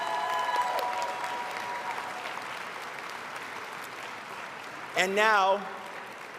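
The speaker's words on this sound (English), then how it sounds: "A big round of applause for our party." Convention-hall applause for the party at the 2020 Ontario Liberal leadership convention, a broad steady clapping crowd at moderate distance, with a speaker's voice cutting in briefly near the end.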